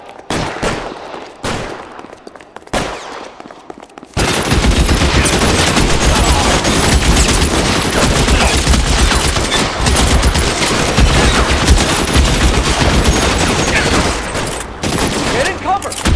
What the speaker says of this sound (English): Lay down some covering fire!